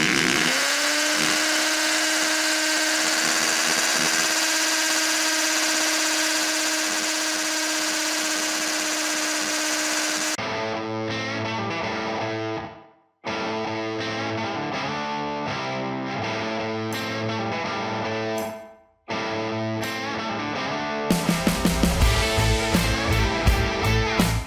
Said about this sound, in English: Well, I have one hole drilled.